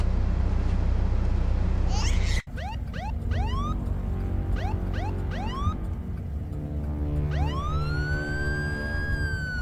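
Police car siren sounding outdoors in a Canadian winter: a sharp thump, then a run of rising yelp-like wails followed by a longer sustained wail, moderately close over background noise.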